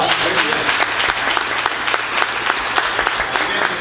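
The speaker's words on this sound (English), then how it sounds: "Let's give a round of applause" An audience claps steadily at a panel discussion, many hands filling the room with dense applause and scattered sharper claps, a faint voice or two underneath.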